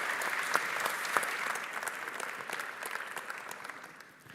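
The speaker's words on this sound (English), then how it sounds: "Please welcome him with a round of applause." A round of applause from an audience, steady dense clapping that gradually fades toward the end.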